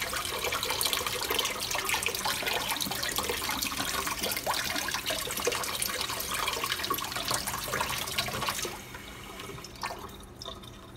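Tap water runs steadily while popsicle molds are rinsed under it, a loud close splashing hiss that stops near the end and leaves faint drips.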